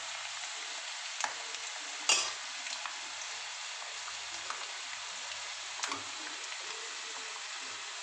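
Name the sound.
peanuts frying in a pan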